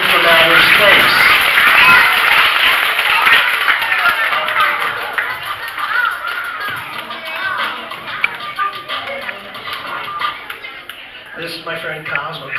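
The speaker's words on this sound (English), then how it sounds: "how about clapping for my pal Cosmo" A crowd of children claps and cheers for Cosmo, a costumed kid from outer space, a dense, sustained burst of applause with excited voices mixed in, loudest at the start and gradually thinning.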